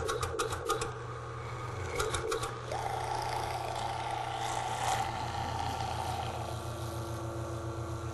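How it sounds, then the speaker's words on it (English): A machine turning frozen bananas into banana ice cream, running as a steady close mechanical whir with a low rhythmic drone, rapid clattering bursts at the start and a brighter grinding tone partway through, no talking. "Now the bananas go through very quickly"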